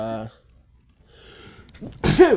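A single sharp sneeze bursts out near the end, following a brief stretch of quiet background noise.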